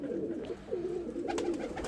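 Low, throaty cooing from a pigeon lifted out of a bag rolls in a short repeated phrase, fairly close, against a dull background hum.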